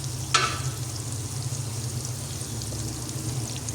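Tomato masala with turmeric and red chili fries in a pan, giving a soft continuous sizzle with a brief clink early on and faint stirring scrapes.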